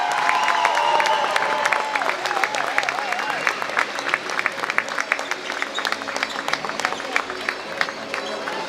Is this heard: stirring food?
no